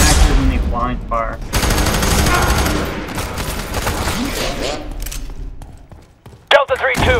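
Enemy soldiers blind firing guns in the shooter FEAR 3, a dense, sustained burst of gunfire that continues for several seconds, mixed with game speech and followed by a sharp impact near the end.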